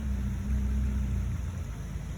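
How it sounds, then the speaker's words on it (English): Boat engine cranking over with a key start, a steady low mechanical rumble and hum filling the short stretch at moderate level with no voices. "Turn the key."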